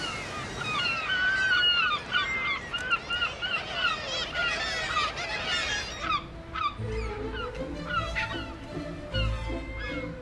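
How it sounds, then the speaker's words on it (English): A dense chorus of seagulls calling and squawking over one another above dashing water in northern Norway, loud at first, then thinning into scattered cries over a low rumble. "the seagulls crying and crying"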